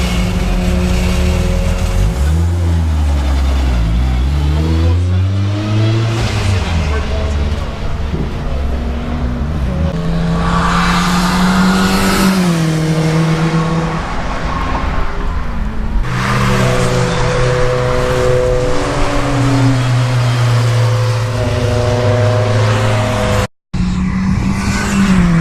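Race cars, among them the JDS Evo time-attack car, lapping a wet Brands Hatch circuit. Loud engines rise and fall as they pass close by in succession, with tire hiss and gusty wind buffeting throughout.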